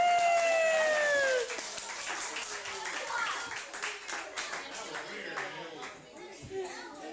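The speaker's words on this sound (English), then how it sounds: "Let's give Harlan a big round of applause." Scattered clapping from a small group at a children's birthday party, with a voice and a sliding tone at the start, then light irregular claps mixed with children's voices.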